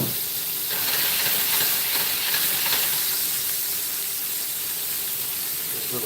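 A hot pan searing tri tip steaks sizzles hard and continuously right up close, a dense steady hiss with crackles after a splash of extra virgin olive oil goes in. No one speaks.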